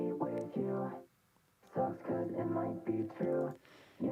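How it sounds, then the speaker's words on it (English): Vocal processed through three stacked vocoder plugins sings short robotic, harmonically rich phrases, moderately quiet, with a brief gap between the first phrase and the longer following line. "Okay, so also there is some vocoders going on with the vocal here."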